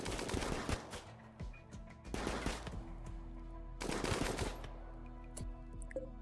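Bursts of gunfire in a RimWorld colony fight, three or four loud volleys of rapid shots separated by short pauses, with quieter clicks and game sounds between them.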